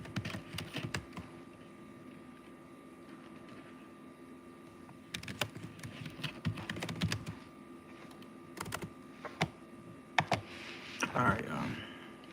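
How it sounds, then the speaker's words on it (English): Computer keyboard typing, scattered bursts of key clicks at close range with pauses between, over a low steady room hum and some faint background voice. "I'm gonna just type it right back in"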